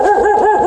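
A person vocally imitates a dog barking, giving a short, loud, close run of rhythmic yapping barks with no other sound.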